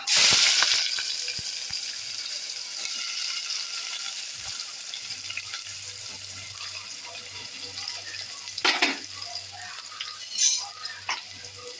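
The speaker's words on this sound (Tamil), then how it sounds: "பாருங்க, வெங்காயம் நல்லா வதங்குது" Chopped onions frying with cinnamon, cloves and cardamom in hot oil for a mutton curry, a faint steady sizzle with a louder splash at the start and a few scattered clinks and scrapes later on.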